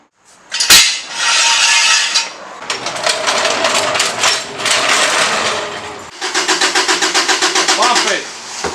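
An engine that has sat unused cranks with a sharp click and a whirring starter, catches and runs unevenly, then settles into a rapid rhythmic idle, loud and close, with voices over it.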